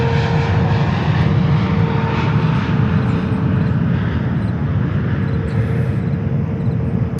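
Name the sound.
Korean Air Cargo Boeing 777 freighter landing at JFK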